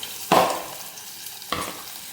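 Tomatoes and garlic are stirred into a boiled guar bean curry in a pan: two short scraping stirs a second apart over a faint low sizzle, close and otherwise quiet.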